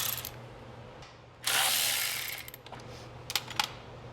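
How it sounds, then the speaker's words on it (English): Ratchet with an 8mm socket working a bolt loose on a John Deere S100-series lawn tractor, a burst of close ratcheting clicks followed by a few sharp metallic ticks over a low engine-like hum. "that takes an 8mm socket to take it off"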